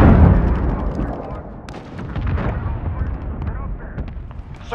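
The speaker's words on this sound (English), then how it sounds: "Allied cruise missile away." Explosions from an allied cruise missile strike in the Call of Duty Modern Warfare video game boom with a loud initial blast, then keep rumbling and crackling as continuous battle noise.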